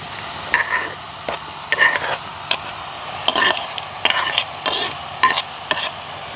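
Onion, tomato, garlic and green chilli are stir-fried in a pan: about a dozen brisk, uneven scraping strokes of a spoon over a quiet, constant sizzle, close and loud, with no talking.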